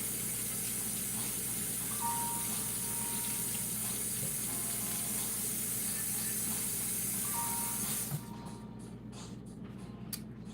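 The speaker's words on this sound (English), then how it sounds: "we're going to get our water on here" A kitchen tap runs steadily into a sink for about eight seconds, a close and constant rushing hiss, then the flow cuts off and only faint room noise remains.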